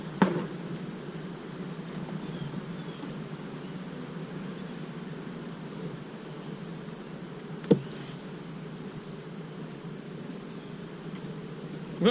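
Honeybees buzz and fan at an open hive, a close, steady droning hum with a few brief knocks.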